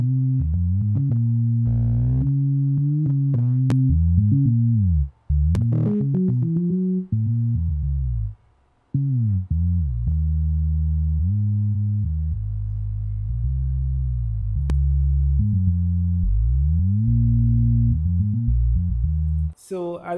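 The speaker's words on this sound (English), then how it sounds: "You turn it off to listen how it was before." A Sytrus bass synth in FL Studio, with effects switched on, plays a melodic bass line of sustained and sliding notes in a steady groove, loud and clean, with brief gaps between phrases.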